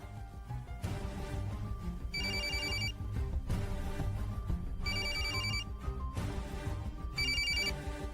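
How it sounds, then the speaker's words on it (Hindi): A telephone bell rings in bursts of shrill electronic trills, repeating three times at a steady rhythm over continuous background music. "अरे हम यहाँ हैं और सुबह सुबह कौन हमारी मिट्टू को फोन कर रहा है?"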